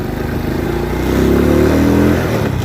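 A Rusi Swish Zx z100 motorcycle engine hums steadily close by while cornering, rising slightly in pitch as it rides along, with a faint rattle and no voices.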